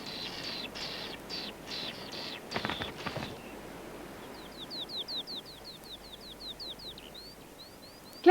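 A black thrush with a white breast crescent, in a Glenveagh National Park setting, gives a run of clear, repeated high chirping notes at moderate distance, preceded by a few sharper calls and faint background noise.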